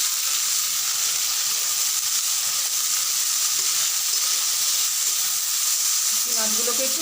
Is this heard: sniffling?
no